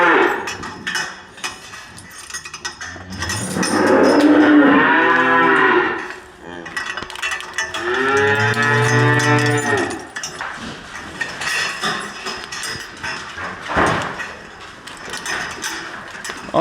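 Heifers moo loudly and close by, with two long drawn-out calls separated by a short pause, over faint shuffling and background noise.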